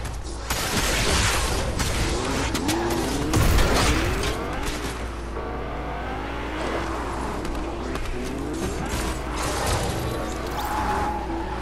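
An Iron Man car engine hums and revs steadily in Fortnite, with occasional impacts and crashes breaking through the driving noise and game ambience; no one talks.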